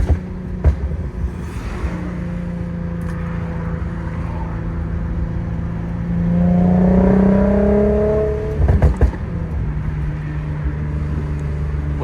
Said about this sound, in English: I'm gonna let you guys in on these Motordyne exhaust sounds.